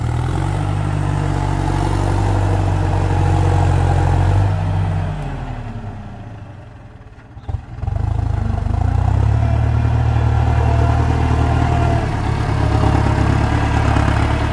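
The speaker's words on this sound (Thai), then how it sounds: "มาดูรถไถต่อครับ" A 6640 tractor runs while pushing very wet soil with its blade, a loud close diesel drone with heavy low rumble that dips and nearly fades midway, then surges back to full, steady power.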